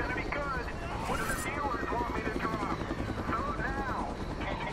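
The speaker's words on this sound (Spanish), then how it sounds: "Me está desconcentrando ese helicóptero." A helicopter flying in the game SOS, a continuous rotor thrum with a pulsing low rumble, steady in the background while voices talk over it.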